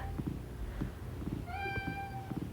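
A cat meows once in a clear, rising-then-falling call midway through, over low rumbling household background noise.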